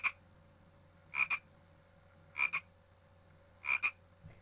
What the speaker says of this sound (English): finally we have a magic frog